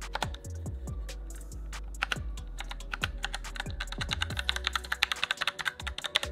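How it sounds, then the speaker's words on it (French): Soft, muffled typing on a quiet mechanical keyboard with irregular clicks and taps, quickening toward the end, close and fairly quiet. "On a des switches maison qui sont très silencieux,"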